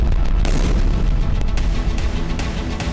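A broad, heavy boom and rumble from an explosion sound effect in a news report on pager blasts in Lebanon, loud and sustained for about three seconds with dense low-end roar and no talk over it.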